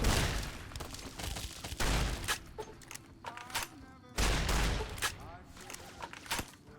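Shotgun blasts in Fallout: New Vegas, with several sharp loud shots spaced a second or so apart and their echoes between them, while someone talks quietly.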